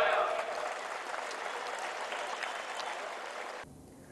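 Crowd applause at a Marathi political speech, a dense wash of clapping with some voices mixed in, holding steady for several seconds before cutting off abruptly near the end.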